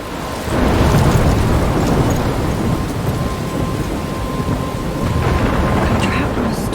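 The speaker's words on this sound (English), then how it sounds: "I'm trapped in a storm?" A thunderstorm in the video game Life is Strange: a loud, steady wash of pouring rain mixed with deep rolling thunder that fills the whole stretch, with no break.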